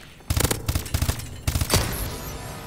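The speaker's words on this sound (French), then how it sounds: "rafale de 3 balles, alors c'est gérable" ARX-160 rifle in Call of Duty: Advanced Warfare firing several sharp three-round bursts in quick succession, loud and close, with a longer burst trailing into a fading echo.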